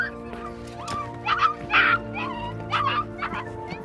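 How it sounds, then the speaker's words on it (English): A dog trapped with her puppy in a flooded pit whimpers and yips in short, high, pleading cries, close and repeated several times over a low background hum. "Workers heard a cry for help coming from a flooded pit. They decided to check and saw this poor dog with a puppy."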